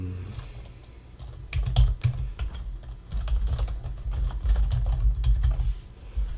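Text is typed on a computer keyboard, a close, fairly quiet run of quick, uneven key clicks going on for several seconds.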